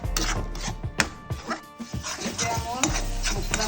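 Spices, ginger-garlic paste and tomato paste fry in oil for a jackfruit curry, with a loud steady sizzle and repeated close clanks and scrapes of a spoon stirring in the pan.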